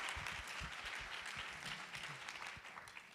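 An audience at a leadership conference applauds, a dense patter of clapping that holds steady and then tapers slightly toward the end.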